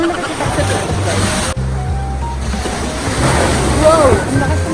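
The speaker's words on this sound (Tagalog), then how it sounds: "Wow! Ang lakas ng alon." Strong ocean waves at Boracay beach, a loud rushing surf roar with wind buffeting, and faint speech and boat motor sounds mixed in.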